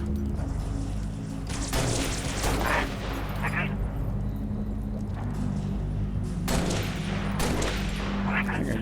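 Needle rifle fire in Halo Reach, repeated sharp bursts of shots at irregular intervals over a steady low game rumble, with someone talking over the action.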